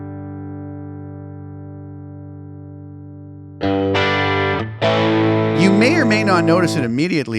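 A Helix guitar preset mixed with an unprocessed DI dry guitar underneath: a sustained chord gives way to brighter, distorted strummed notes, with someone talking over much of it.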